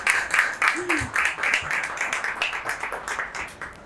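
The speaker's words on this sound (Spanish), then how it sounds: "le doy un fuerte aplauso para Bárbara" A lecture audience applauds Bárbara after her talk on how an embryo is organized. Rapid, continuous clapping fills the room while voices speak over it.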